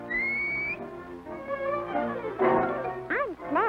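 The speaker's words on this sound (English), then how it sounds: "they come every morning as soon as I whistle." A person whistles a cheerful tune, a clear close melody of short rising and falling notes, some sliding upward, with a slight background hum.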